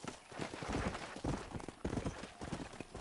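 A horse in Red Dead Redemption gallops with quick, rhythmic clip-clop hoofbeats, close and fairly quiet, with a faint voice in the background.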